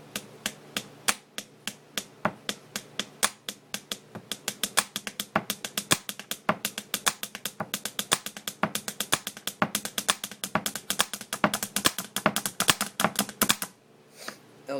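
Pen tapping on a desk starts as a spaced beat of sharp, close clicks and quickly speeds up into a dense, rapid drum-like roll. The roll stops abruptly just before the end.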